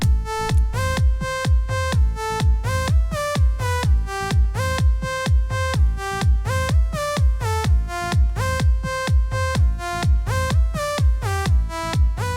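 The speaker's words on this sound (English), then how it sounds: "the lead finally with the kick and bass sounds like this" A bright synth lead plays a repeating melody over a punchy, steady kick drum and deep bass, loud and rhythmic throughout.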